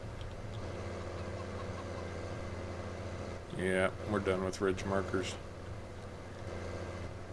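A tractor engine in Farming Simulator 19 drones steadily at a low idle-like pitch for the whole stretch, with someone talking briefly over it midway.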